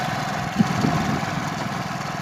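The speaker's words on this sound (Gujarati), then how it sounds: "રવિભાઈ ગાડી સ્ટાર્ટ કરી દીધી." A car's engine just started, idling with a steady low rumble at moderate distance, no voices over it.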